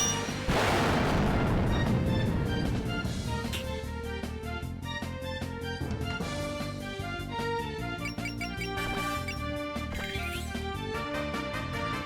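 A rocket fired in the video game Fantasy Maiden Wars, a loud blast with a rushing roar that decays into repeated metallic hits and chimes over game music.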